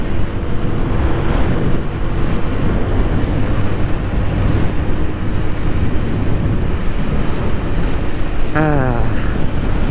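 A Lambretta G350 scooter ridden along a road, heard as constant loud wind buffeting and road roar throughout with a faint engine drone underneath and a brief tonal sweep near the end.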